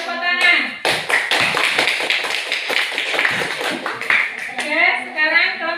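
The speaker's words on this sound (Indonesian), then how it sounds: "Kasih tepuk tangan." Children in a classroom clapping hands together in a rapid rhythmic burst, close and lively, with a voice speaking at the start and end.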